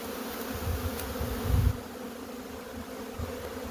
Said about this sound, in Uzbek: asalarilar